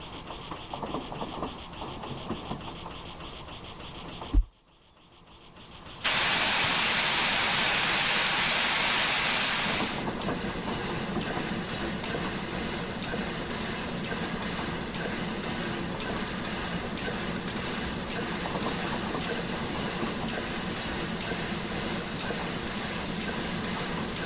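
Empire State Express 999 steam locomotive on the Boston and Albany in Train Simulator Classic, giving a steady rushing, hissing roar, with a sudden cut near five seconds, a loud burst of steam release, then an even rolling rumble with air-pump panting.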